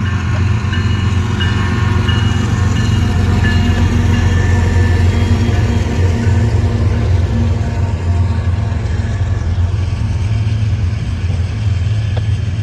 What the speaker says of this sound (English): And it's a Union Pacific train.